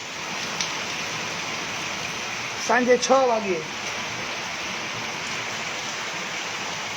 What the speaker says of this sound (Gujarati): ભારે વરસાદ શરૂ થયો છે